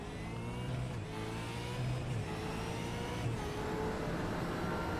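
V8 Supercars race car engines roar in a racing video game, a steady loud drone with slight pitch shifts as the cars accelerate, and no talking.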